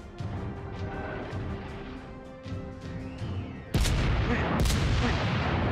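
Naval guns firing in the World of Warships game, with heavy rumbling blasts and a sharp, louder salvo near the end, dense and continuous against the battle din.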